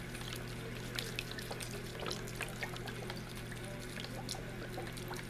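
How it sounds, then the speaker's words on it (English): Liquid poured onto a cornbread dressing mix before rebaking, a soft continuous trickle with small splashy ticks, close and fairly quiet, with no talking over it. "Just pour enough to wet it all down."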